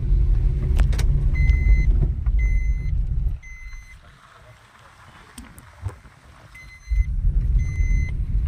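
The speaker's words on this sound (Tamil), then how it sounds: "பார்த்தீங்களா வண்டியெல்லாம் போயிட்டுருக்கு" Vehicles pass on a main bypass road, with loud close rumbling engine and tyre noise, then a quieter lull before another vehicle roars by, and faint repeating beeps can be heard.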